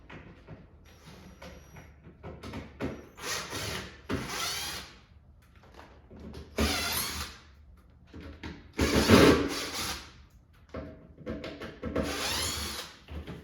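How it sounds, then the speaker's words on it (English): A cordless power drill driving screws whirs in several short, separate bursts at low speed, with quiet pauses between, close by. "I just use my drill on a low speed"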